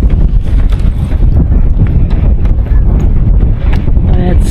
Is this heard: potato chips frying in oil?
no